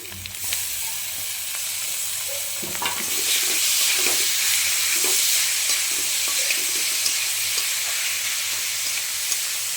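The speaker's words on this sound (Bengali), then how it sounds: "এখন আমি মূলো সেদ্ধটা দিয়ে দিচ্ছি।" Boiled radish tipped into spices frying in a pan, with a steady close sizzle that jumps louder as the radish goes in, followed by scraping stirs.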